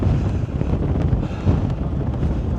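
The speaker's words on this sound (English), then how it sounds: "Very windy up here." Strong wind on the summit of Bleaberry Fell buffets the microphone with a low, rumbling roar that gusts and dips throughout, no voices.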